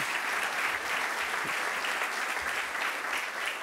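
A room full of people applauds at a talk on an exemplary co-ownership renovation of 94 apartments in Lorient, producing a dense, even wash of clapping that holds steady and loud for nearly four seconds.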